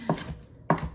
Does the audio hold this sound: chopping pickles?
yes